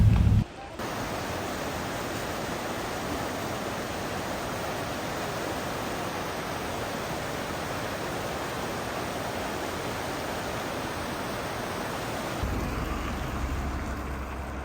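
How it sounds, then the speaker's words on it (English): Bridalveil Fall in Yosemite National Park, a 620-foot single-plunge waterfall, gives a continuous, dense roar of falling water that stays loud and even throughout. "Here is Bridalveil Fall. This waterfall drops 620 feet in one single plunge."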